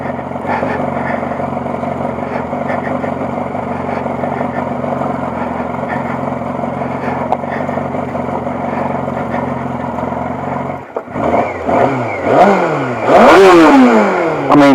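A Honda CBR600 F2 sport motorcycle ridden off-road on a rough track in the Spanish Pyrenees gives a steady, close engine drone, then breaks into a run of sharp, rising and falling revs toward the end.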